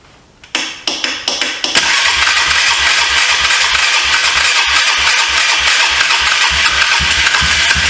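A 2004 Polaris Trail Boss 330 ATV engine cranks in a few quick bursts, then catches and settles into a loud, steady idle with a rhythmic mid-range throb that runs to the end.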